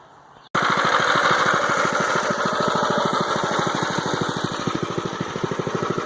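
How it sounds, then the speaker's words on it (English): A Predator 212 engine on a small tractor starts abruptly and runs steadily close by, a loud, even chugging drone that continues throughout. "So, I'm about to fire up this engine,"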